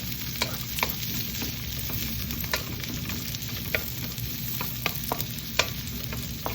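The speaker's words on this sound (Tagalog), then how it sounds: "Gisa lang ng konti at pwede nang isunod ang bawang." Garlic and onion sauté in an oiled pan, a steady close sizzle broken by regular light clicks of a utensil stirring, with no talking.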